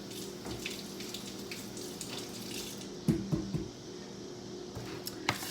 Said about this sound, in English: I'm going to run this red onion under some water